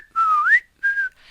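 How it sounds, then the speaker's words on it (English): A man whistles a short, clear tune alone: one longer gliding note that rises at its end, a brief pause, then a second steadier note, close and fairly loud. "And then he walked back among the plants, still whistling,"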